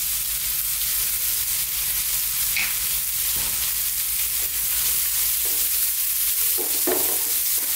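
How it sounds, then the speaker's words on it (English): Herbs and chili flakes frying in oil in a pan while being stirred, a loud, constant close sizzle with occasional scraping and clinks of the utensil. "we're just going to throw these around just for like 2 to 3 minutes. Keep stirring."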